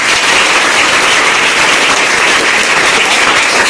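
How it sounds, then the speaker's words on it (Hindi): Dense, steady applause from a large audience at a celebration for a tailor's son who passed an exam, continuous and loud throughout with no talk over it. "चलिए एक बार और ताली।"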